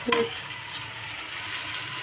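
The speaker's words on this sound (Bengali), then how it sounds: "কুমড়োর তরকারিতে জলটা দিয়ে দেবো।" Water is poured into pumpkin and potato curry frying in a kadai, giving a brief splash followed by a steady, soft hiss and sizzle for about two seconds.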